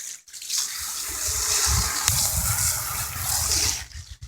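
A hose sprays water over a chicken brooder board caked with poop, a loud steady gushing hiss that rises and falls slightly as the spray moves, with no talking.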